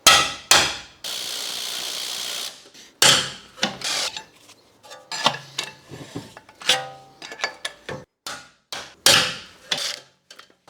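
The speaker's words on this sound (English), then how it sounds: "hit it with a hammer so the socket seats itself" Repeated sharp metallic hammer strikes seating a socket on a BMW 335d prop shaft bolt, loud and close, in irregular bursts with a brief steady whirring noise between the early blows.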